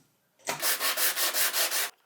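Hand sanding of a clamped scrap wood base: six rhythmic back-and-forth strokes of close, bright rasping scratch, evenly spaced over under two seconds.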